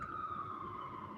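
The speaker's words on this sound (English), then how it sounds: "Queen Elizabeth, you hear them sirens? I didn't put them sirens on." Emergency vehicle sirens wail steadily outside, a continuous distant tone slowly sliding lower, faint and muffled with background noise underneath.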